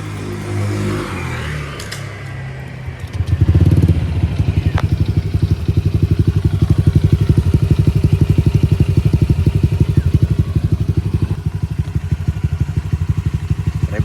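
A stock-engine Honda Click scooter fitted with a Kenochi stainless exhaust pipe starts after a brief low rumble, then settles into a steady, loud, close idle with an even rapid pulsing throb and a light mechanical clatter.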